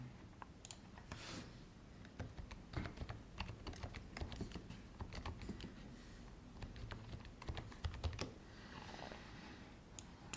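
Text is typed on a computer keyboard, a quiet and steady patter of key clicks with a few louder taps, close and with no talk over it.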